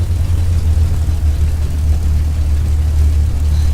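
A Spitfire Mk I or Mk II engine in the FSX flight simulator gives a steady, loud, low droning rumble that holds an even pitch throughout, with no voices.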